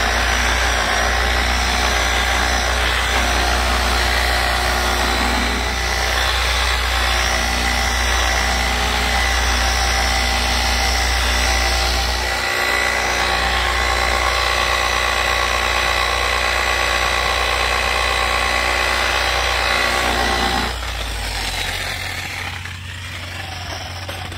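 A power buffer spins at medium speed against a plastic headlight on a Lexus LX570, a steady loud motor whine and hum that runs unbroken for about twenty seconds before cutting out and winding down.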